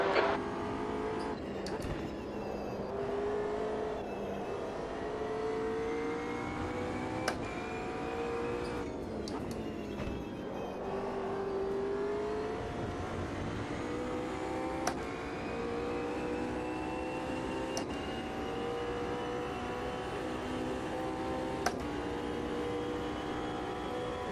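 In the video game Automobilista 2, a race car engine drones steadily and its pitch climbs and drops several times as it shifts through the gears, loud and continuous with occasional clicks and brief tyre noise.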